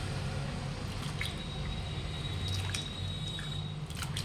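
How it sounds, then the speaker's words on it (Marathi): Water drains off freshly washed sabudana (tapioca pearls) with soft, wet squishing and dripping against a low steady hum, continuous for a few seconds. "तर हे पाणी आता काढून घेते"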